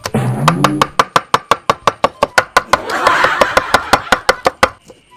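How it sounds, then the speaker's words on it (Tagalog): A knife chops onion leeks on a cutting board in quick, even strokes, about twenty sharp loud taps in a steady rhythm, with a brief voice near the start. "Hiwain na natin yung onion leeks!"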